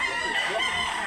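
A rooster crows at a chicken market in Consolacion, Cebu, a short, loud, close call with a wavering pitch, set against busy market noise.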